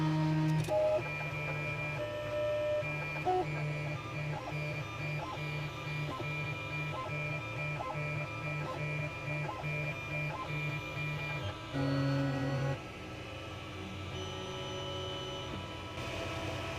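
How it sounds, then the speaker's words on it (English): A 3D printer lays down the skirt of a test pattern, its stepper motors whirring in steady, rhythmic tones with repeated short movement bursts, close and continuous with no talking. "right now it's printing out the skirt"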